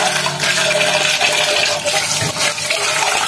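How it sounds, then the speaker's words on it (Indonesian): Tap water runs steadily onto a stainless steel chopper bowl as it is washed, a loud continuous splashing gush with no pauses. "Kita cuci yang mangkoknya dulu."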